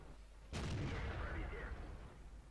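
A tank cannon fires once in World of Tanks, with the shot coming from an Object 140 medium tank: a sudden loud boom that rolls off into a rumbling, decaying tail over steady low engine noise.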